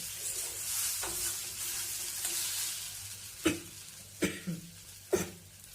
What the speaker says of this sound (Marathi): याच्यामध्ये आपण उकडलेले बटाटे टाकून घेतलेले आहे। चांगलं व्यवस्थित मिक्स करून घेऊ।